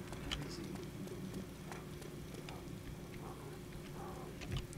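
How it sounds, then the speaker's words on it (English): Steady soft rain in the video game DayZ patters throughout with scattered drop taps, an even wash of noise with no voices. "It's raining. Things just get worse."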